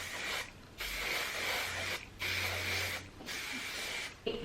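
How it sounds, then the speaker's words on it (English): Heat protectant spray misted through long hair in bursts, several pumps in a row with short pauses between, close and fairly soft, no talking. "I'm just going to spray this throughout my hair."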